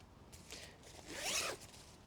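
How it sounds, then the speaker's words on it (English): Zipper on a Mountain Laurel Designs Patrol Tarp Duo ultralight tarp shelter, with one quick faint zip that rises to a brief rasping pull, close by and without talk. "And these zippers are watertight."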